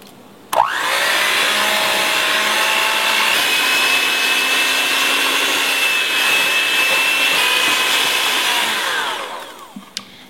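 An electric hand mixer at medium speed beats eggs into oat-and-raisin cookie dough, switching on with a click and whirring in a steady, close, high whine for about nine seconds before winding down.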